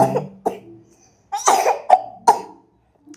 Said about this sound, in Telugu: బాగా దగ్గు వచ్చిందనమాట దగ్గు జలుబు రావడం వలన బాగా ఇదైపోయింది